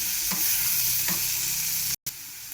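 Flat beans of the Mousumi variety sizzling steadily in a frying pan, with a few scraping stir strokes through the hiss and a brief cut near the end.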